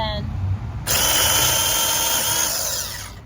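A battery-powered tree saw, operated by holding two buttons, cuts through a branch with a loud, steady, high-pitched motor whine lasting a few seconds and then tapering off, close up, with someone speaking briefly before it starts.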